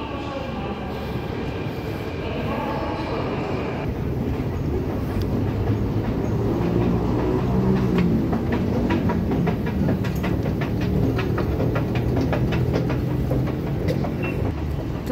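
A metro train runs through Agios Antonios metro station in Greece, a loud rumbling roar that builds and holds, with rapid rhythmic wheel clatter and faint squealing over the steady noise.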